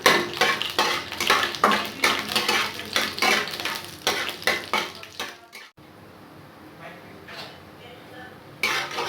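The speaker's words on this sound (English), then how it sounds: "we will saute it till it becomes light brown in color" Chana dal and oats upma ingredients are sautéed in a pan, with a spoon scraping and stirring in quick rhythmic strokes over a light sizzle, close and clear, before the stirring stops and a quieter hiss remains.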